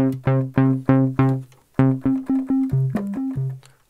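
Monophonic analog synthesizer, a Korg Mono/Poly or Behringer MonoPoly, playing a triangle-wave oscillator: a loud, clean run of about a dozen plucked notes with quick decays, repeated low notes, then a rising and falling melodic phrase, alone with no talk.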